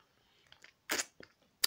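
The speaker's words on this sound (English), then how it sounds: "chewing gum" A lollipop crunches between teeth in a close, quiet ASMR setting, a few soft clicks, then one loud crunchy bite, two smaller crackles and a final sharp snap.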